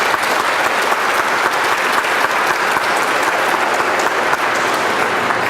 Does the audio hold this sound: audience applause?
yes